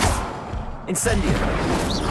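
Incendio fire spell cast in Hogwarts Legacy, a loud burst with a whooshing blast flaring up about a second in, over a dense bed of game combat noise and music.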